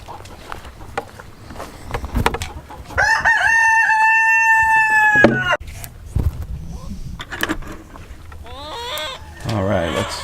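A rooster crows loudly among chickens in a rain-soaked field, one long drawn-out crow in the middle with scattered clucks and short calls around it, and a person talking intermittently nearby.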